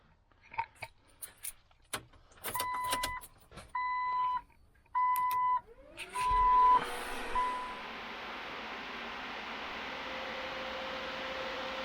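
A Hayden electric transmission cooler fan is powered up on the bench, first with a few short clicks and beeps, then spinning up into a steady, fairly loud whirring rush that holds to the end.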